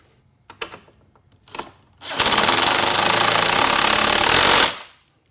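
Impact-style power tool with a 13mm socket driving bolts on an Ironman 4x4 Raid rear bumper for a Jeep Wrangler JL Unlimited, preceded by a few clinks, then a loud, continuous rattling buzz for about three seconds.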